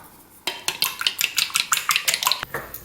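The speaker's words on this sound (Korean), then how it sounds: "계란에 소금 넣고 풀어서 준비해 주세요." A fork or whisk beats eggs with salt in a bowl, making rapid, rhythmic clinks against the side, about a dozen crisp strokes heard up close.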